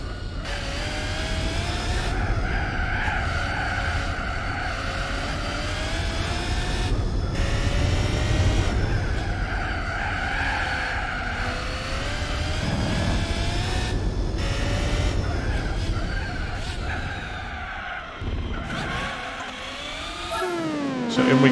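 Gran Turismo 4 race car pulling into the pits, its engine droning steadily with shifting tonal whine and gear changes, a continuous loud mechanical hum that dips briefly near the end.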